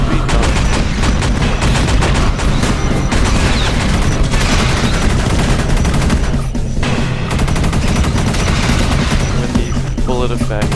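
Rapid, dense gunfire bullet effects from the sci-fi shooter game Space Beast Terror Fright, loud and continuous with crackling automatic bursts and booms under a full mix, lasting throughout.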